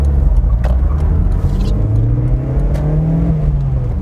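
A Mazda MX5 NC Miata accelerates from inside the car, its engine note rising steadily in pitch as revs build, loud and continuous with no voices.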